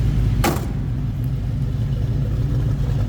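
A 1963 Chevrolet Corvair restomod engine idles with a deep, steady low rumble, recorded close up from the rear; a brief sharp knock sounds near the start, with no voices.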